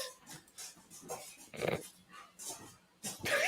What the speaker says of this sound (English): Is your dog dancing in the kitchen?